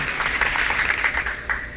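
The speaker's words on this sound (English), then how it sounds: "Y'all give Caleb some applause." An audience at a community panel on housing breaks into lively applause. The clapping is dense and steady throughout, with a few sharper claps standing out.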